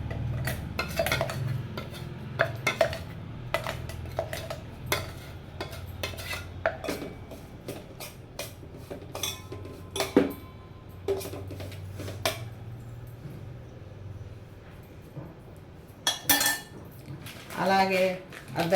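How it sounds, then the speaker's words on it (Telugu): Ground ragi laddu ingredients, including roasted almonds and sesame seeds, are stirred in a metal dish with a spoon, making repeated close scraping clinks and taps in an irregular rhythm, while someone talks softly in the pauses. "ఇవంతా వేసి ఒకసారి కలుపుకుంటాం ఫ్రెండ్స్."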